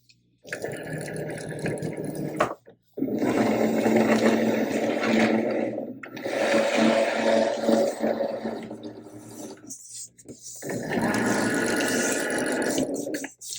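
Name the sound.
Cricut cutting machine loading and cutting rhinestone template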